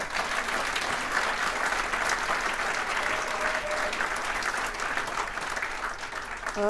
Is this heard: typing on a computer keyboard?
no